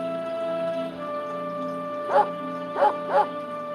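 A dog gives three short yips, close and moderately loud, over a steady hum, with no talking between them.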